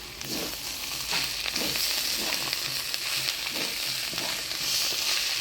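Cabbage curry with ground cardamom sizzles steadily in a pan on a village kitchen fire, with soft scraping strokes of stirring repeating through the constant frying hiss.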